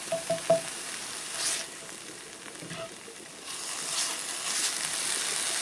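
Jarred processed garlic sizzles in a soup pot for Zuppa Toscana, a steady low frying hiss with a few faint clinks at the start.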